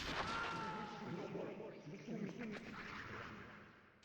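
Gunfire in Metal Gear Solid on the PS1, a dense rumble of shots and booms running the whole time under a game soundtrack, with a voice talking over it.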